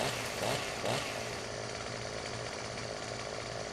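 Chainsaw trimming a large birch tree in the Farming Simulator 17 game, a steady loud buzzing engine whine running throughout with two brief revving surges near the start.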